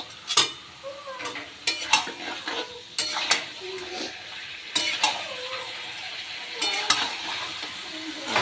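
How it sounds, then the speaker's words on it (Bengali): Chicken with spices stirred in a hot pan, a steady sizzle broken by repeated scraping strokes of a spoon against the pan, close and fairly loud, with no talking. "চিকেন দিয়ে ভালো করে আবার নাড়বো যাতে মশলাগুলো সব চিকেনের মধ্যে ঢুকে যায়।"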